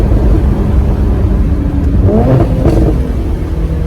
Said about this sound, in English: Drop it down in a second, give it a little juice.